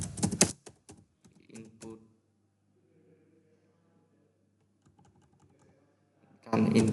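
Clacky bursts of typing on a computer keyboard, close and loud at the start and end, with a quiet gap of faint speech in between.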